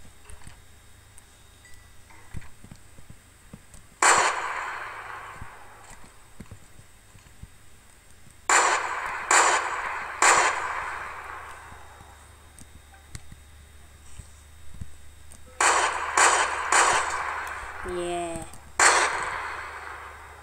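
Single shots from an assault rifle in a modded video game, heard as separate sharp cracks with short decaying tails, spaced several seconds apart and sometimes fired in quick pairs.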